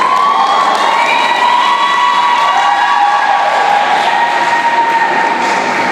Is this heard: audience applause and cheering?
yes